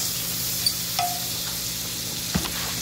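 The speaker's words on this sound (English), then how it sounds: "And you're just gonna saute that up." Green beans and onions sautéing in a pan over medium-high heat: a continuous close sizzle with a few soft utensil taps and stirring clicks over the steady frying hiss.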